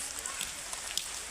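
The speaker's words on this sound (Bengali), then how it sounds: "আরে ভালোই বৃষ্টি আসছে" Rain falling steadily outdoors at a safari park, a close, even hiss of drops with a few brighter pattering ticks.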